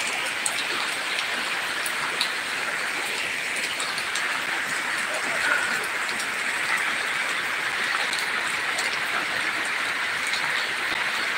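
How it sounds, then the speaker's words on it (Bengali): Heavy rain pours down in Jhalokathi, a dense, unbroken hiss of drops hitting surfaces that stays loud and even throughout with no voices. "প্রচুর পরিমাণ বৃষ্টি হচ্ছে"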